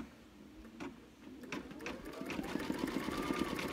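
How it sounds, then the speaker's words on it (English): An embroidery machine stitches letters onto a shirt, a rapid mechanical whirring and clicking that starts quietly and builds to a steady close rhythmic hum. "push start and it's gonna start embroidering my letters"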